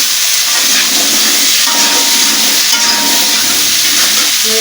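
Vegetables tipped into a hot frying pan with a dried chilli for a Bengali mixed-vegetable tarkari, giving a loud, steady, close sizzle and hiss that runs unbroken throughout.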